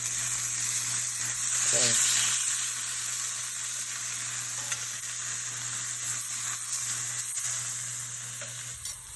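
Steaks frying in a hot pan sizzle loudly and steadily from close range, with a constant hiss and faint clinks of handling, while a voice briefly speaks over it.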